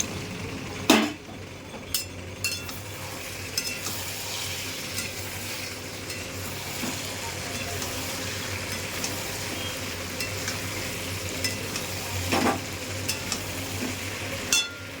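Masala with coriander leaves and fried potatoes is stirred and sautéed in a pan, with steady sizzling under repeated scrapes and clinks of a spatula against the metal, some sharp knocks standing out.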